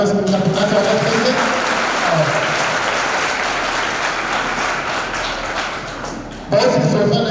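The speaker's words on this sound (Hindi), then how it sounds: "जोरदार तालियों से उनका पुनः स्वागत करेंगे।" Applause from an audience at a college event, dense steady clapping that fills the room and runs throughout, briefly dipping near the end before swelling again, with a voice faintly underneath.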